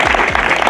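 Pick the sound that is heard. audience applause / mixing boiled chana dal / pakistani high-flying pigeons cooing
audience applause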